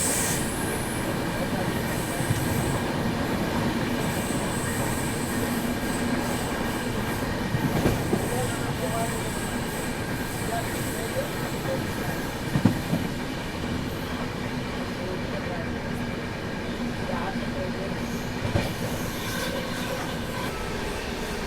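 An Amrit Bharat Express train from SMVT Bengaluru runs along the rails with a steady, loud rumble of wheels, occasional clacks over rail joints and faint squeals throughout.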